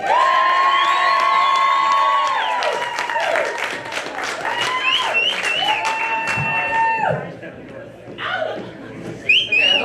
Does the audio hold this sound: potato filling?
no